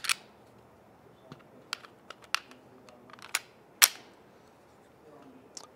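A Taurus G2C pistol taken apart and put back together by hand, with sparse sharp metallic clicks and snaps plus softer handling knocks, close up and without talk.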